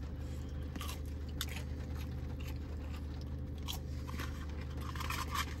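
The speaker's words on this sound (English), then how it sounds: "Crunchy nugget textures." Quiet crunchy bites and chewing up close on a crunchy Wendy's chicken nugget, a few crisp crackles scattered over a low steady background hum.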